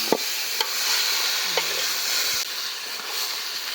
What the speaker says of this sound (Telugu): మటన్ జల్దీ ఉడకాలంటే మొత్తం ఆయిల్లో బాగా ఫ్రై చేసుకోవాలి